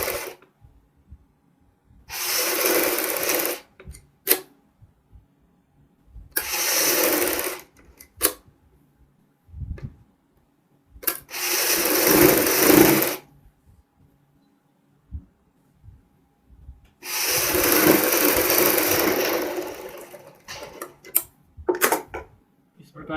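Sewing machine stitching a kurti jacket in bursts of about one to two seconds, four main runs with short taps between, close and fairly loud, separated by near silence.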